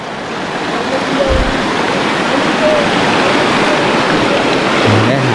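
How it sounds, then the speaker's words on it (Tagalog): Strong current of the Nambalan River in Mayantoc, Tarlac, rushing as a steady, loud broadband wash of water that fills the whole stretch, with a brief low thump near the start. "Ayan, napakalakas ng agos."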